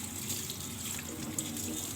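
A tap runs in a steady stream over fish being washed in a kitchen sink, a soft, even splashing hiss with no speech.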